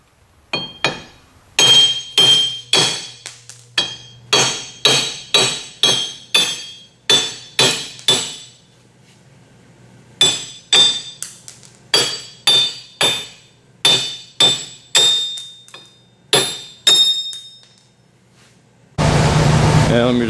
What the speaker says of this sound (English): I tried this hammer, didn't hardly do anything.